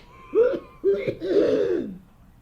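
A single harsh cough or throat-clearing, a few rough bursts over about a second and a half, close and fairly quiet with no talking.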